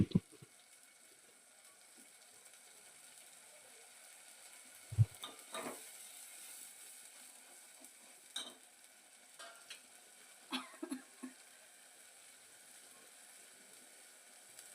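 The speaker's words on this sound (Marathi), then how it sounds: "कांदा खोबऱ्याचं वाटण घालून ते पण आपण असं मस्त तेल सुटेपर्यंत परतून घ्यायचं" Onion-coconut paste being sautéed in oil in a pan, a faint low sizzle under sparse spoon scrapes and stirring clinks that come at irregular intervals.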